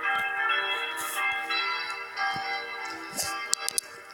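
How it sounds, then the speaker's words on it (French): Church bells ringing near a chapel in a Minecraft-style game village at an inauguration mass, with layered tolling strikes and ringing tones sustained across the clip, moderately loud, with a few sharper chimes near the end. "de toute façon, on entendra encore les cloches."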